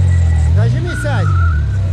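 An off-road car's engine revs hard in a ravine as the driver presses the accelerator, loud and close throughout, its pitch rising and falling under voices talking over it.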